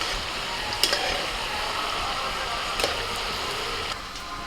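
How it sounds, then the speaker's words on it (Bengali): Palm fruit fritters fry in hot oil over a low flame, giving a steady soft sizzle throughout with a couple of brief crackling pops. "আস্তে আস্তে করে ভাজতে হবে"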